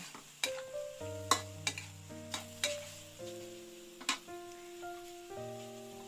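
Duck skin being stir-fried with holy basil in a pan: a sparse run of metallic clinks and scrapes from the utensil against the pan, roughly a dozen distinct knocks, fairly quiet, with faint sizzling underneath and no talk.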